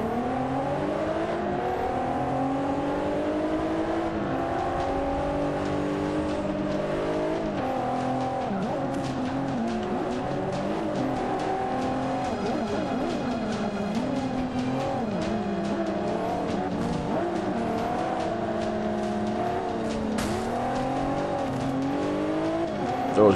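A Nissan GT-R in the racing game Forza Motorsport 5 roars continuously through rising and falling revs across gear changes, with occasional tire squeal, loud and steady throughout.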